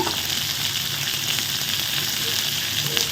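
Garlic, ginger and green chili sizzle in hot oil in a pan, a loud, steady, close frying hiss that continues unbroken, with no voices.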